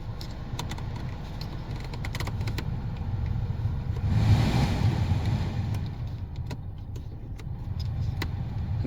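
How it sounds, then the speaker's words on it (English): Blower motor in a 2012 Hyundai Accent 1.6 running inside the cabin, a steady low whir with a brief swell in the middle, with scattered clicks over it. "Just a little bit of noise coming from the blower motor occasionally here."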